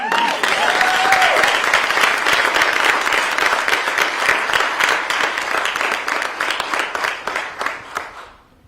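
Sustained crowd applause at a mayor's press conference announcing a new sheriff in Louisville, many hands clapping densely at a steady loud level, gradually thinning and fading out toward the end.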